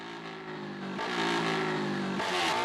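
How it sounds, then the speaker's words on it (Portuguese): A Yamaha Fazer 250 motorcycle's loud exhaust roars close by, its engine note climbing as it revs and pulls, steady and unbroken for a few seconds. "Só o cano tá berrando demais."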